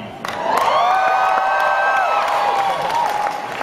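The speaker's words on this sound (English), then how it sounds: "So I got a sense that the crowd was excited to see Chuck and Sarah kissing a little bit, right?" A convention panel audience cheers and whoops loudly, a dense sustained roar with scattered clapping that swells and holds for several seconds before starting to ease.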